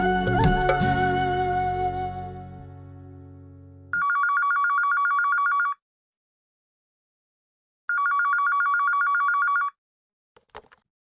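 A telephone ringing in two identical electronic bursts separated by a pause, loud and close, following a fading musical chord, then a brief click at the end.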